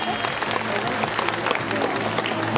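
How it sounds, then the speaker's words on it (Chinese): An audience applauds the blue team at a dolphin show at Hualien Ocean Park: a steady, dense wash of clapping from a large crowd that holds evenly throughout, with faint tonal sounds underneath. "掌声再给蓝队鼓励一下。"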